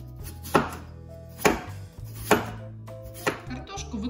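A knife cuts raw potatoes into thin rings on a board, four sharp, evenly spaced chops about a second apart, close up, with soft scraping between strokes.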